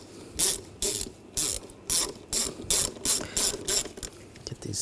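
A hand ratchet snugs down screws during spark plug replacement on a 2007-2013 BMW X5 3.0L inline-six, a close rhythmic series of about nine sharp clicking strokes with short pauses between, no talk.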